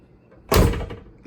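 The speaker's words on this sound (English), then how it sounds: "But this door had a rattle in it too." A single thud and rattle from inside an Olds 442 car door, probably loose window glass shifting, heard as one sharp knock followed by a brief rattling decay, close and loud.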